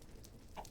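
Chicken clucks from a video game, a couple of short bursts near the end of a quiet stretch of low background sound.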